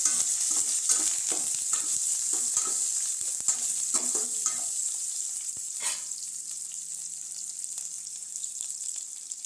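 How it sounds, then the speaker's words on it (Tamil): Curry leaves and shallots sauté in hot oil in a pan for a traditional Tamil lentil-ball curry, a steady close sizzle and crackle broken by repeated scrapes and knocks of a stirring spoon, with no voices. "கருவேப்பிலை கொஞ்சம் சேர்த்து நல்லா வதக்கிடுவோம்."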